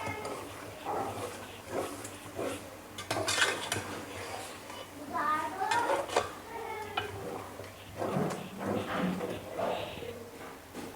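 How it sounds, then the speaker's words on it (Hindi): Onion and yogurt sautéing in a pot for beef korma, with a spoon scraping and clinking against the metal and a soft sizzle underneath, while someone talks throughout. "देखें, हम थोड़ी देर अब इस प्याज दही को भूनेंगे।"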